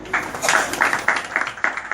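Steady rhythmic applause from an audience at a prize-giving event, with repeated clap bursts close by and no talking over it.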